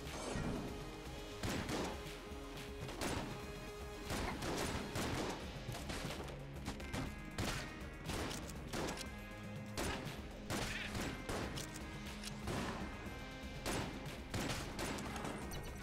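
Rapid, quiet, repeated shots from the Big Iron gun in Enter the Gungeon, a fast-firing stream of cracks and thuds over busy game noise, with no speech.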